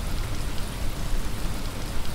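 Steady rain falls in the video game Dead Island, a soft, even hiss of drops pattering on surfaces, moderately quiet and continuous with no voices over it.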